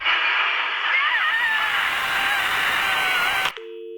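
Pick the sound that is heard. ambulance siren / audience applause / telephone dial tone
telephone dial tone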